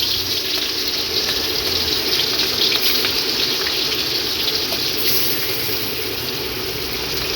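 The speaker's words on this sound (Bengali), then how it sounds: "তেল গরম হয়ে গেছে, মাছটাকে এক একটা করে ভেজে নেব।" Pomfret fish fry in hot oil with a continuous, close, fairly loud sizzling hiss that stays even throughout, with no voices.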